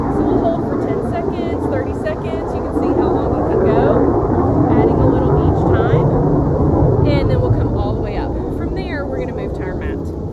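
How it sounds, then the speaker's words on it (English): A low, steady engine drone from an aircraft passing overhead fills the background throughout, with a voice speaking over it. "A little airplane action going on above us."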